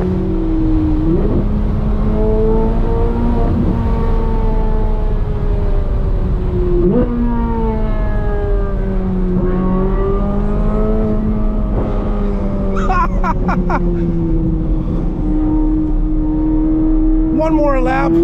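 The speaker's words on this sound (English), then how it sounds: "I'm in a Z06 on a track." A Chevrolet Corvette C8 Z06 runs hard on a race track, its engine note steadily climbing and dropping through gear changes and throttle lifts, loud and close throughout, with a few brief sharper bursts near the end.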